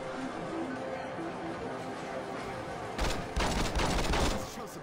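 Heavy gunfire in the video game Saints Row 2, a dense barrage of overlapping shots including shotgun blasts that swells loud after a busy stretch of game noise and chatter.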